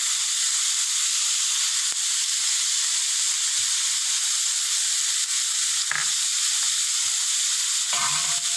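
Thinly chopped cauliflower curry with turmeric and curry leaves frying in a pan, a constant dense sizzle throughout, with a few soft knocks and a brief scrape of stirring near the end.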